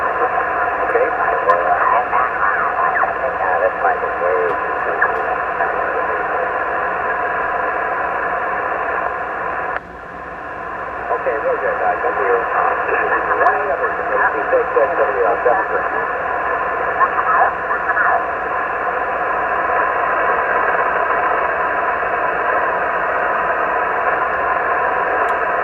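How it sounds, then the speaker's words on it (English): Amateur radio receiver audio during a park activation at Joshua Tree: a steady band of static hiss with faint voices buried in it, continuous and fairly loud, with a brief dip partway through. "Can you guys hear the radio?"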